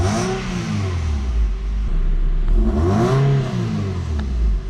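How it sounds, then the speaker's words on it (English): A Toyota 3S-GE engine in an Altezza SXE10 revs up and down in smooth swells, rising and falling pitch twice with noticeable throttle lag, loud and close with no voices. "you get lag between when you push the pedal to when the engine actually revs"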